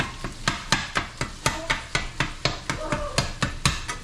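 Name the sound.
chopping cooked meat in a pan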